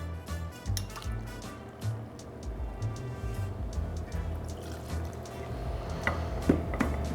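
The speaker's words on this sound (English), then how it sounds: "We're using our vodka. We're gonna do 2 ounces today." Two ounces of vodka pour into a metal shaker tin while building a Bloody Mary, soft trickling and splashing with small clinks of tin, close and fairly quiet without talking.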